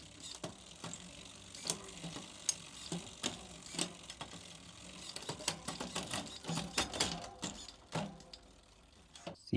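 Small mechanical clicks and ratcheting taps, irregular and fairly quiet and close, from limit screws being adjusted on a Shimano XTR Di2 rear derailleur on a drop-bar bike.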